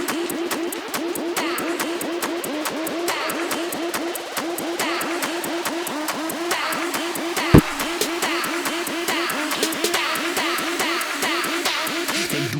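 A song plays from a recording, a steady fast electronic beat with a regular rhythmic pulse and one sharp hit partway through, heard fairly quietly with no talk over it.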